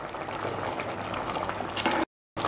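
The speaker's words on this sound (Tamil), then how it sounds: "பூசணிக்காய் கூட்டு நல்லா கொதிக்க ஆரம்பிச்சாச்சு." Close, steady bubbling of a thick yellow pumpkin and black-eyed pea stew boiling in a pot, continuous, then cut off by a brief silence near the end.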